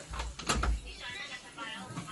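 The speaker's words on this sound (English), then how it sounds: "Josh, you should close the door" A door is shut indoors in a family home, giving one dull thump partway through while people keep talking nearby.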